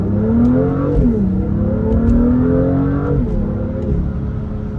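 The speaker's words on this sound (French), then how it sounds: "On va essayer de faire une petite accélération." A BMW M2 sports car engine revs up through rising gear tones, drops briefly at a shift, then climbs again, loud and close with no voices.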